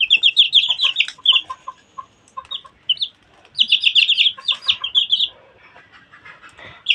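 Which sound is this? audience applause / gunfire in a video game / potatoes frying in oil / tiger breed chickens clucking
tiger breed chickens clucking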